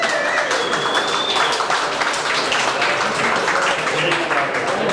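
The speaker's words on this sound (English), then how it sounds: "Give him a round of applause." Crowd applause at a motor racing awards presentation at Queensland Raceway, continuous clapping under an amplified voice and background noise, with a whistle-like tone early on.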